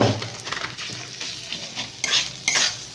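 Fish coated with ginger, salt and turmeric is stirred in a wok: spatula scrapes and clinks over a soft sizzle. Brief, close, irregular strokes, with a couple of sharper scrapes near the end.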